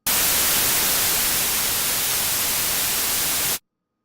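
Noise oscillator on an Omnisphere synthesizer, a loud, steady hiss of broadband white noise held for about three and a half seconds before cutting off abruptly into silence.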